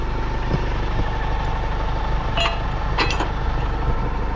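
A tractor engine idles steadily on a working farm during a muddy cropping day, a constant low rumble filling the whole stretch with a couple of faint clanks over it.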